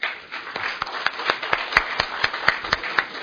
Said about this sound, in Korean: 민병두 의원께 큰 따뜻한 뜨거운 격려의 박수를 한번 부탁합니다